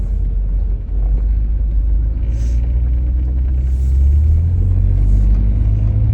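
A loud car engine giving off a deep, continuous low rumble that swells slightly near the end, heard from inside or right beside the vehicle with no talk over it.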